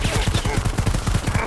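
Rapid automatic gunfire in the video game Predator: Hunting Grounds, a dense burst of evenly spaced shots rattling loudly and close for the full second and a half, with no voices over it.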